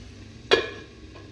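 Chicken pieces stirred and frying in oil in a pan give one short scraping sizzle burst that fades quickly into a quiet background.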